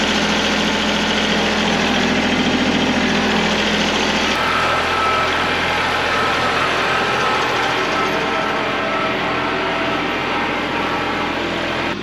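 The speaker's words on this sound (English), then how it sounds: "just going to kind of drive the tractor around" A tractor fitted with a forestry mulcher runs steadily outdoors in the woods, its engine a loud, constant drone with a low rumble that shifts slightly in tone partway through, with no talking.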